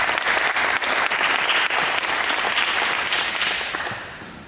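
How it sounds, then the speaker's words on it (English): Audience applause at an NJROTC summer program graduation fills the room with steady, dense clapping that gradually tapers off toward the end. "so they deserve a round of applause too."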